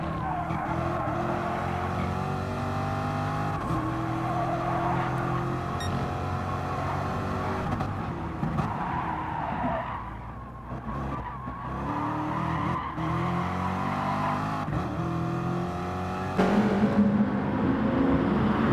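Race cars in the racing game GT Sport skid and squeal their tires through corners over a continuous engine whine. The sound is loud and sustained, and the pitch shifts as the cars accelerate and brake.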